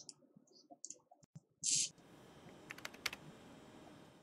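Typing on a computer keyboard: scattered light clicks and keystrokes, a brief louder burst of clatter, then a few more sharp taps over a faint hiss.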